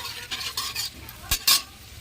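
Bay leaf and dried red chili stirred in hot oil for a chicken dish, with a few short metal spoon scrapes against the pan over a light sizzle, close and brief.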